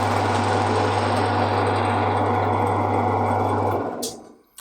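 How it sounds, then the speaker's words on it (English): A Titan pillar drill's motor runs with a steady, moderately loud electric hum and whir, close by, then spins down and fades out with a short click at the end. "So it's definitely not the quietest of pillar drills, but it's not the loudest either."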